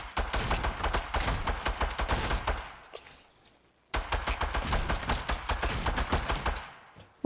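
Sustained rapid automatic gunfire in the Fortnite video game, dense bursts of shots that stop briefly in a near-silent gap, then resume just as fast and loud.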